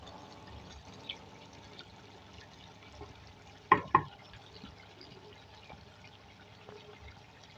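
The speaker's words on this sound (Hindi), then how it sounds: "अब इसको मिक्स करने के बाद हम इसके अंदर हाफ कप दही डालेंगे, योगर्ट।" Half a cup of yogurt goes into beef aloo gosht in a karahi: two quick, soft wet plops in close succession, otherwise a quiet kitchen background.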